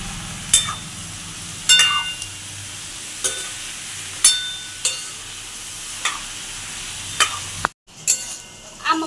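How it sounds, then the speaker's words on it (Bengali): Vegetables frying in a pan over a low-medium gas flame, with a steady soft sizzle and periodic scraping and clinking as the mixture is stirred, close by and without any talk. "এরপর আমি লো মিডিয়াম গ্যাসে আমি এগুলো ভালো করে সবজিগুলো ভেজে নেব।"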